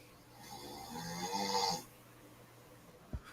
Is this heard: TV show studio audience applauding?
no